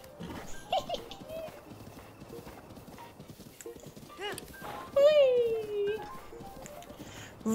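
Horse hooves clip-clopping in the video game Zelda: Breath of the Wild, a newly caught horse, with intermittent hoofbeats mixed with a whinny-like tonal sweep and someone talking over it.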